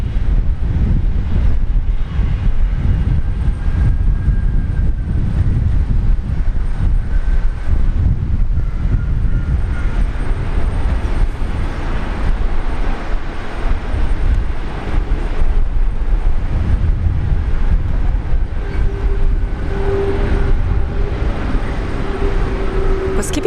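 Qantas 62 airliner landing at Brisbane Airport, a loud continuous low engine and rolling roar throughout, with a faint whine appearing near the end.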